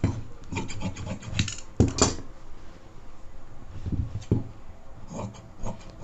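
Scissors rasp and rub repeatedly through blouse fabric while a strip is cut, a close, steady run of scratchy snips with brief pauses and no talking.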